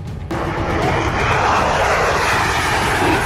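A fighter jet engine roars loud and steady from close range after a brief, quieter opening, a continuous wide-band rush with no voices.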